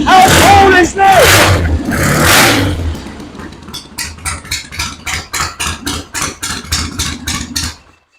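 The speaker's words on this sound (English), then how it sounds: "I defy anybody to find a bike that will start as easy as that" Old motorcycle engine of roughly 40 years, heard after loud shouted talk: it catches and settles into a steady, close, rhythmic idle of even pulsing beats before cutting off.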